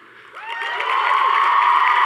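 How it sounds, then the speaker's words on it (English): Audience applause at a motivational talk, building quickly from quiet into a steady, loud wash of clapping with a sustained tone running through it. "I want to hear an applause"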